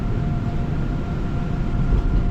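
A Korean train bound for Gangnam pulls out of the station, heard from inside as a loud, steady rumble that builds slightly as it gathers speed, with no talking.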